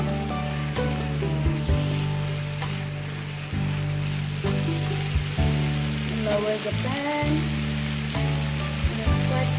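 Chickpea cooking water poured into a pan of hot spices for a couscous Buddha bowl, raising a loud, steady sizzle and bubbling hiss that runs throughout, with a voice speaking briefly over it.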